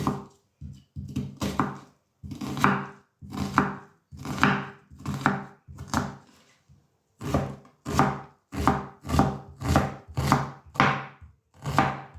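A knife chops rhythmically on a board in quick bursts of sharp thuds, briefly stopping twice before resuming its steady, close-up cutting.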